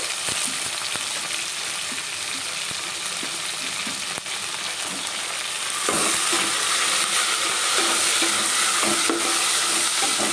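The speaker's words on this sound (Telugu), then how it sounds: "బాగా వేగిపోయింది కదా పచ్చిమిర్చి వేసేద్దాం మరి" Green chillies fry in hot oil in a pan while making moong dal khichdi, a steady loud sizzle that grows louder and brighter midway as they are added and stirred, with occasional spoon scrapes against the pan.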